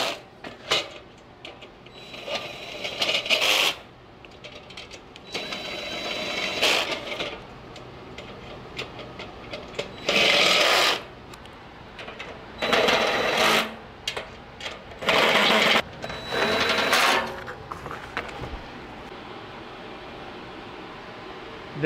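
Power drill running bolts down softly while fitting a flip-up dock ladder to a pontoon boat, short whirring bursts separated by pauses and quiet handling clicks.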